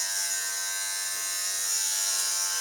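Electric dog grooming clippers with a comb attachment buzz steadily and close up while trimming a dog's head over the eyes, one continuous even drone with no pauses and no talking.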